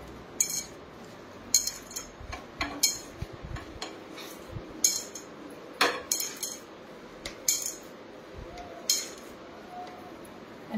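A utensil scrapes and clinks against a pan while fried onions are mixed, sharp metallic taps arriving in irregular bursts over quiet background sizzle, close and moderately soft.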